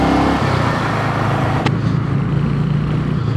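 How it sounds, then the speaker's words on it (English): A Royal Enfield 350 HNTR motorcycle accelerates on a road beside a bin lorry, the single-cylinder engine droning loud and close with wind rush, holding a steady note after a shift. "we've got a drag race with a bin lorry"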